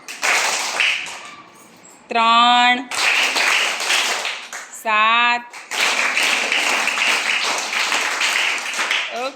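A group of children clap hands in unison during a classroom counting game, two short bursts of rapid, evenly spaced claps ringing out close and loud between an adult's speech.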